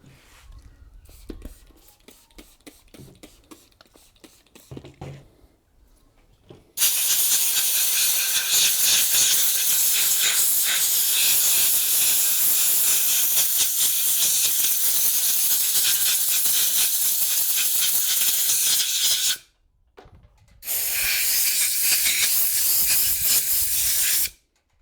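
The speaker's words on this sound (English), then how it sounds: "spray and use a compressor, air compressor, to get it off" Compressed air blasting isopropyl alcohol off an IBM PC 5150 computer part, a loud continuous hissing rush in two long bursts with a short pause between, preceded by quieter handling noises.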